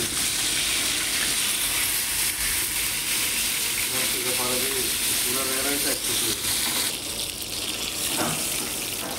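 Saury fish frying in a pan gives a steady, loud sizzle with a watery hiss throughout, broken by a few brief bubbling bursts and light clatter.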